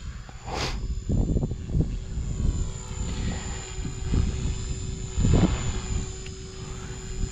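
A small RC helicopter hovering inverted, a steady whining rotor and motor drone with a high tonal whine, punctuated by low rumbling gusts of wind or rotor wash, close and fairly loud with no talking.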